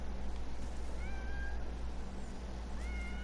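A black cat in the video game Fishing Planet meows twice, a short call and then a second one near the end, over a steady low ambient hum with no talking.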